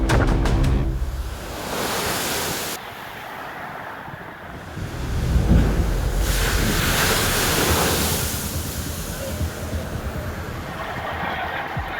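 Huge storm waves crash against the seafront and railway station at Dawlish during Storm Callum. They make a loud, continuous roar of surf and spray, with wind buffeting the microphone and surges swelling and easing throughout.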